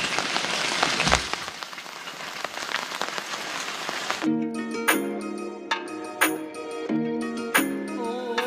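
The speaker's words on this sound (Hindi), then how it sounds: "इस टाइम पे बहुत ही भयंकर सी बारिश हो गई है" Heavy evening rain pours down as a dense, steady hiss for the first few seconds, then stops abruptly as music takes over for the rest.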